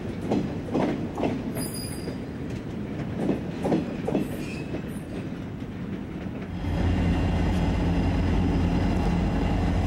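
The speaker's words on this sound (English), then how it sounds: "That's that same train backing up on a different track." A train rolls slowly in reverse along a separate track near the Chesapeake and Ohio Canal, a steady rumble with rhythmic wheel clacks that swells louder and denser near the end.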